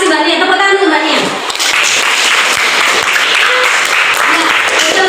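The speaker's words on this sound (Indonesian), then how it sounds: "Tepuk tangan untuk Mbak Nia." A classroom group claps for a woman, dense applause rising after a tonal voice trails off at the start and continuing steadily, with some speech mixed in.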